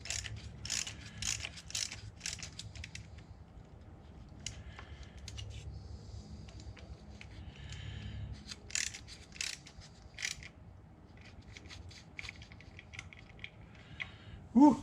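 A ratchet wrench clicks through quick turns while tightening a bolt during a Procharger supercharger install on a 2012 Hemi 1500 pickup, with bursts of close mechanical ratcheting separated by brief pauses.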